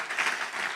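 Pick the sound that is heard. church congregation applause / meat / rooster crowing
church congregation applause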